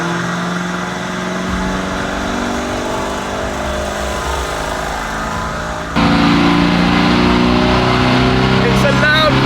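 Lamborghini Urus in limp mode on a dyno during a stock run, engine droning loud and sustained, then jumping louder as it pulls harder toward high speed in fifth gear.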